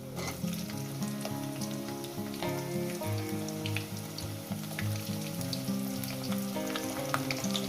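Cubed potatoes sizzle and fry steadily in a pan of hot oil for a Bengali cauliflower-potato poppy-seed dish, a dense continuous crackle with low pan clatter and occasional stirring underneath.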